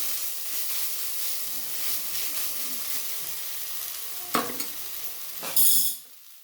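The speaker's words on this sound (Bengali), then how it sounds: "খুব সুন্দর করে আমি কষিয়ে নেব।" Soya chunk dhoka curry sautéing in a pan sizzles steadily up close, broken by a couple of louder scraping stirs of a spoon against the pan toward the end.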